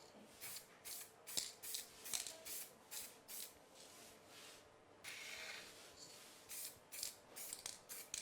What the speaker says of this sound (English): I told you I would spray everything gold